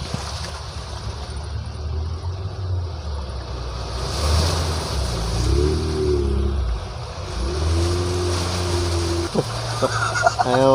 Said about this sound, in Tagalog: Oh, baha na naman dito.